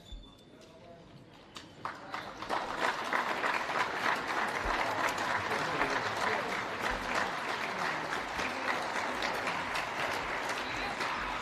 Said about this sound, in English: Player gets injured, both teams were clapping them off as they come off